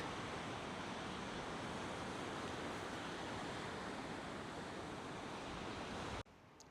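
Surf rolls in steadily on Ventnor Beach, a broad constant roar of waves mixed with some wind buffeting on the microphone, loud and unbroken until it cuts off abruptly near the end.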